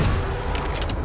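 Gunfire in the battle royale shooter Apex Legends Mobile, a dense, continuous stretch of loud, booming shots with a few sharper cracks standing out near the end.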